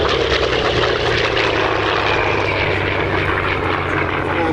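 A Hawker Sea Fury piston-engined propeller fighter roars past at an airshow, a loud continuous engine drone with a slight pitch sweep as it passes, with no talk.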